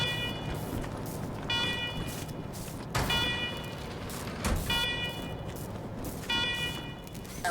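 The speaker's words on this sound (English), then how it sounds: "Alarm, alarm, alarm, I hate alarm." Alarms blare in the Wasteland 3 video game, a repeating electronic wail that pulses roughly every one and a half seconds in loud cycles over a rumbling background with sharp hits.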